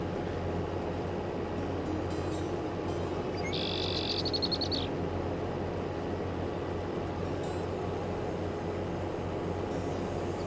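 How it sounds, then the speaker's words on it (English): A brief rising buzzy cicada chirp in a video game sounds once over a steady bed of outdoor ambience with a low hum throughout. "There's a cicada right there."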